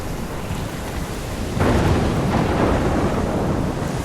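A thunderstorm from Life Is Strange roars as a dense, loud wash of rain and wind, swelling into a heavier rumbling burst partway through and staying intense to the end, with no voices.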